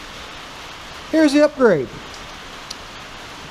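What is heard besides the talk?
rain falling on a roof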